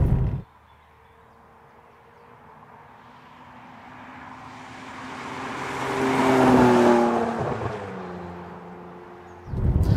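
A Ferrari 612 Scaglietti HGTS engine swells from a low rumble into a loud, rising roar heard from inside the car, then eases back, with no talk over it.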